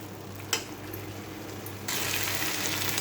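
Banana stem and paneer fry in a pan. A steady close sizzle is broken by a brief clatter early on, then turns noticeably louder and hissier for the second half.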